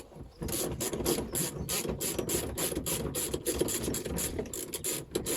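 A ratchet fitted with a 17mm socket clicks rapidly and steadily while undoing a bolt on a ZX car, a close, dense run of sharp pawl clicks with brief pauses.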